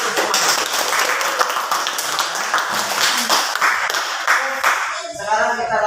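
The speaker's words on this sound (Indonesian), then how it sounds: "tepuk tangan untuk semua." Group applause in a classroom, a dense wash of many hands clapping at once, loud and continuous, fading into speech at the end.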